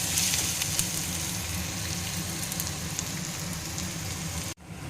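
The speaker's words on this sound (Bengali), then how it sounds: "এই যে এদিকে পেঁয়াজটা ভাজা হচ্ছে" Onions frying in a pan for chicken curry give a steady, close sizzle that runs evenly for several seconds, then cuts off sharply near the end before resuming briefly.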